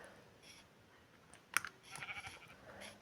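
A sheep in the video game From The Fog gives a faint, brief bleat amid quiet game ambience, with light computer keyboard typing nearby.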